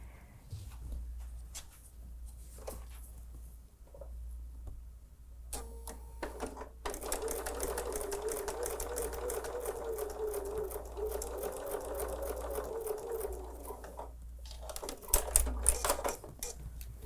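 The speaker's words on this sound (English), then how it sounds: "let's sew this on" A domestic sewing machine stitches a quilt block seam with a steady, fast mechanical whir for about eight seconds after a few short starts, close and moderately quiet over a low hum.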